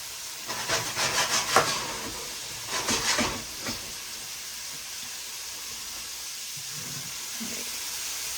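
Burger patties hit a hot seasoned pan and sizzle with a steady, broad hiss, with a few louder bursts of spitting early on before the sizzle settles into a constant wash.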